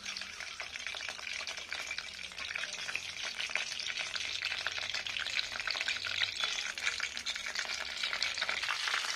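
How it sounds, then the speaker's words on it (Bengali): Bay leaves and panch phoron spices fry in white oil for a vegetarian cabbage dish, giving a steady, close sizzle and crackle that holds evenly throughout with no voices. "একটু খড়ে যাক তেজপাতাটা, পাঁচফোড়নটা।"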